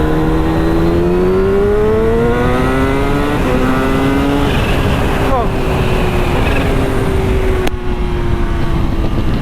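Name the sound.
sport motorcycle accelerating in third gear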